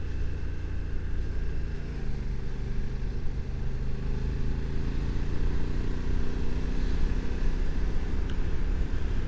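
2025 Honda Africa Twin Adventure Sports motorcycle on the move over rough roads, a steady loud engine drone with shifting pitch and wind rush, continuous from the rider's position.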